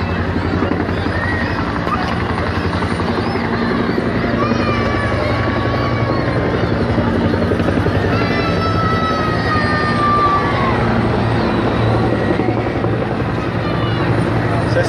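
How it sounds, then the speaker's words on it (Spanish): Helicopters fly low over a parade on October 22 in Apatzingán, a loud continuous rotor chop and engine roar throughout, with crowd noise and voices underneath. "Otra vez los helicópteros."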